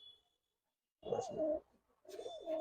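A Palla line pigeon gives two close, rolling coo phrases separated by a brief pause, each a throaty burble lasting about half a second.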